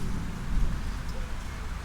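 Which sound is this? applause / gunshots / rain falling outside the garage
rain falling outside the garage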